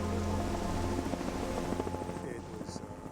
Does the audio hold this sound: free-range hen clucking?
no